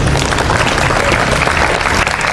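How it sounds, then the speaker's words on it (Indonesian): Students at a morning school assembly clap for a classmate, producing loud, dense, continuous applause from a large group close by. "Tepuk tangan dong buat Brian."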